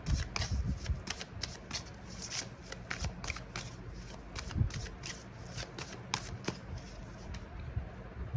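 Tarot cards shuffled by hand during a card reading, a close series of crisp riffling flicks and soft slaps repeating in an uneven rhythm, with faint background noise.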